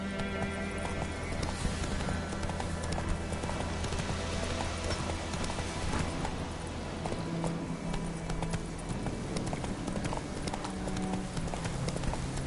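Horse hooves gallop in steady, continuous clip-clop rhythm across the ground in The Witcher 3 video game, loud and constant throughout beneath a sustained ambient game soundtrack.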